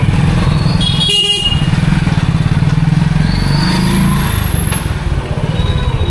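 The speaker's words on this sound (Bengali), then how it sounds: "বেনারসের অলিতে গলিতে আমরা ঘুরছি বাইকে করে" A motorbike rides through the narrow lanes of Varanasi, its engine putting out a close, steady rumble while horns honk sharply a few times around it in busy street noise.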